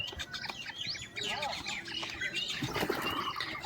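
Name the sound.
black francolin (kala teetar) calling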